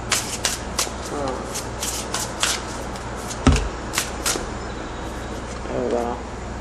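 Tarot cards are shuffled and drawn by hand, giving repeated crisp riffling bursts and soft card slaps close by, with a person talking in between.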